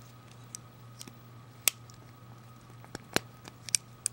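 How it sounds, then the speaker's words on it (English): Scissors on a Leatherman Wingman multitool open and close, giving a series of small, sharp metallic clicks and snips spaced irregularly over a quiet hum, with no talking. "And this side, your scissors."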